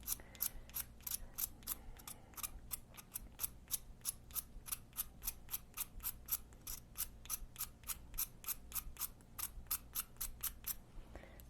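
A knife gently scrapes a stick of drawing charcoal to sharpen its point while the pencil is turned, giving a steady run of about thirty crisp, evenly spaced scraping strokes, close and alone.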